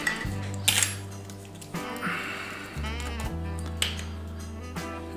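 Model paint for a 1/48 Hobby Boss A-6E Intruder kit is mixed before brushing: small metallic clinks and scrapes in an uneven rhythm, close and moderately loud, over a steady low hum.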